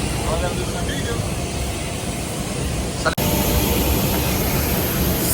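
An airplane engine, a loud, steady jet roar heard from inside or near the aircraft, with a brief click partway through and no break in the drone.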